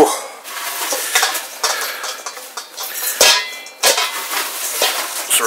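Pickled onions being mixed in a bowl: continuous scraping and clinking of a utensil against the dish, with a couple of sharper knocks, close and fairly loud with no talking.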